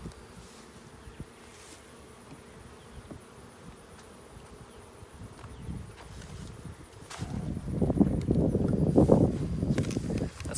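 Honey bees buzz steadily around an open beehive as frames are inspected, a dense insect hum that swells louder and closer in the last few seconds, with no talking.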